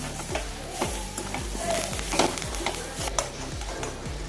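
Kerala-style beetroot thoran being stirred in a pan after salt is added, with regular scraping strokes of the spoon about every half second over a soft steady sizzle, close and moderately quiet.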